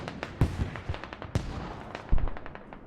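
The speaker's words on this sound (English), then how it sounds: "They have got a hell cannon." In the video game Squad, a hell cannon fires amid a battle, producing sharp, distant explosive cracks at irregular intervals, layered with other gunfire pops and no talk.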